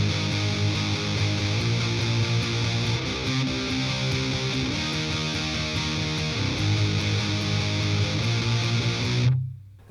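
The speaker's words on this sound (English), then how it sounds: "The pre-chorus sounds like this, so I'll play it first" Distorted electric guitar plays the pre-chorus of a song, sustained ringing power chords shifting through a progression, loud and solo, ending in an abrupt stop.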